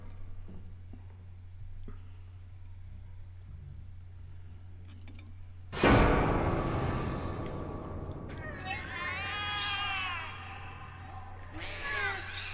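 Several cats meow in The Cat Lady video game. Quiet low ambience comes first, then a sudden loud cry, then a series of wavering meows that fade in and out, with a further meow at the end.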